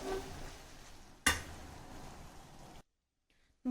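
Cooked jeera rice being stirred in a pan, a soft continuous scraping and rustle with a sharp clink of the spoon against the metal partway through, then the stirring stops and it goes quiet.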